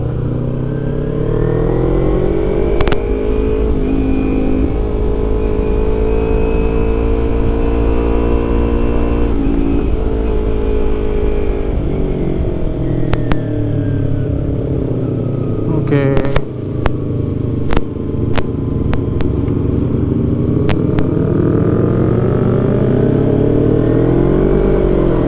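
A Kawasaki Ninja 250 FI engine and exhaust rev loudly and continuously while riding, the pitch rising and falling with throttle changes, and voices talk over it at times.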